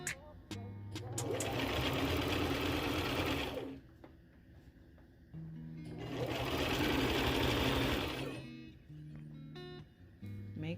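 A sewing machine stitches through hair in two long, loud runs of steady whirring, each several seconds, with a short pause between and brief mechanical clicks at the start and end.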